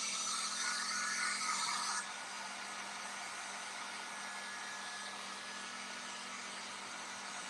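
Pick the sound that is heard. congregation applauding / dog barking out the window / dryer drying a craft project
dryer drying a craft project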